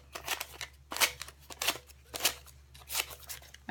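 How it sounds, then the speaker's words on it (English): Scissors snipping small slits into the top of a plastic goodie bag, with about seven quick, crisp cuts in an uneven rhythm, close and fairly quiet. "you're gonna quickly make small cuts just at the top"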